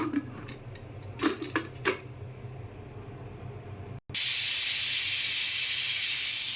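A pressure cooker holding mutton gives a few soft knocks and clicks, then a brief silence, then a sudden loud, continuous hiss of steam rushing out.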